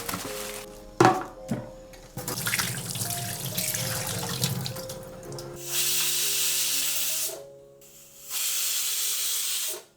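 A pressure cooker of curry on the stove lets off strong hissing bursts of steam, loud and close, with two long sustained whistles near the end after a stretch of softer bubbling and rattling.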